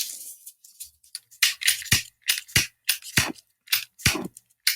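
A lighter that has run out of fluid is clicked again and again, sharp dry snaps in an uneven rhythm, loud and close with no voices.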